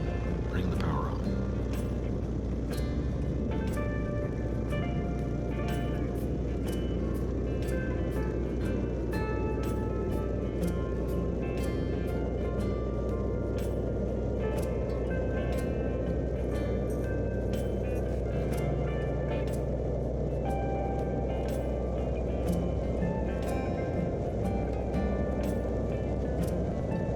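A Stearman biplane engine powers up for takeoff, a loud, constant deep roar with rapid clattering pulses throughout, heard from inside the cockpit while a voice talks over it.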